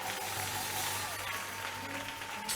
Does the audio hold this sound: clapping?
yes